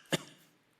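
A single short, muffled cough from a preacher during a sermon stands out against an otherwise quiet room, with no speech.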